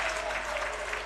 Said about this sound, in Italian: strappa applausi rosso-blu